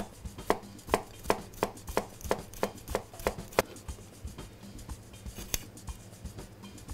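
A knife chops shallots very finely on a board in a kitchen, a quick run of crisp, evenly spaced taps close by that slows and softens toward the end, with no talk.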